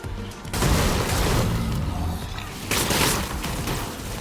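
Stellar Blade gunfire comes as sustained bursts of shots and booming impacts, loud and dense, with a short break before a second heavy volley.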